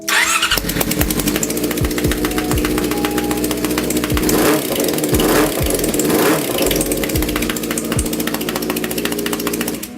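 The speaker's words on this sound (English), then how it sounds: "that popping sound, that's the coil pack just jumping up and down because of all that compression" A 2004 Yamaha YZF-R6 motorcycle engine running on three cylinders runs roughly and loudly nearby, sputtering and popping unevenly as if misfiring, with a steady uneven chugging throughout.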